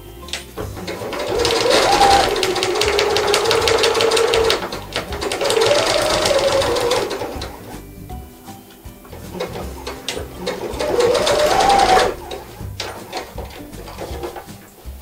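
A sewing machine runs a second line of stitching through a cloth diaper, three close bursts of rapid mechanical whirring and needle clatter, separated by short pauses.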